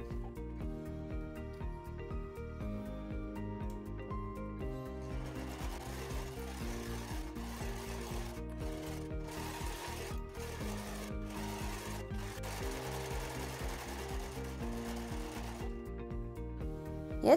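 A sewing machine stitches a long fabric tube with a continuous rapid mechanical whir, running steadily over sustained background music.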